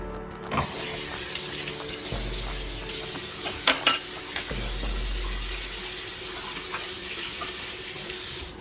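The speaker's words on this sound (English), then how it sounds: "I'm rinsing out my rag." Tap water runs steadily into a kitchen sink as a cleaning rag is rinsed under it, a continuous close splashing hiss with a few brief clatters and louder surges, no talking.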